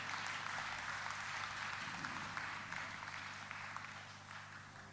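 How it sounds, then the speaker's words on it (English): Audience applause fills a charity dinner hall, steady and moderately distant, continuing evenly for the whole stretch and easing slightly toward the end. "Please give them a big round of applause,"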